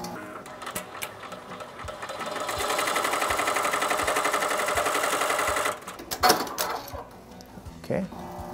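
An embroidery machine runs a placement stitch on a cloth napkin, its steady rapid stitching building to a loud whir and then stopping, followed by a few clicks and handling noises.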